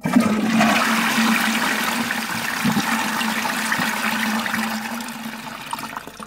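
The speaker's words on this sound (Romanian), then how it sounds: "am tras apa" A toilet flushes nearby, a loud rushing surge of water that settles into steady swirling and draining for several seconds, with no talking.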